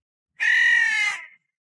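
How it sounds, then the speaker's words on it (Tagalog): A strange black bird gives a single loud, drawn-out caw lasting about a second, close by and alone against silence. "Teka, ano yun? Kakaibang ibon yun ah."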